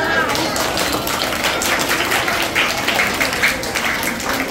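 Applause from the audience at a school annual awards ceremony, a dense, continuous wash of many hands clapping that holds steady at full strength with no letup.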